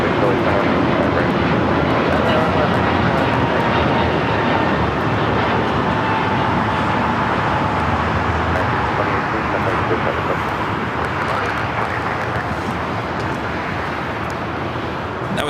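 American Airlines jet taking off at LAX, a loud sustained engine roar with broadband rumble lasting throughout, with voices talking over it.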